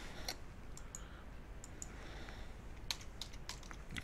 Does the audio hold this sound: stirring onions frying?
no